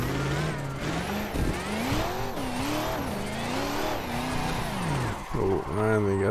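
A BMW E92 drifting and spinning out in a racing video game: the engine revs rise and fall in a wavering whine, with brief tire squeal, while a voice talks over it throughout.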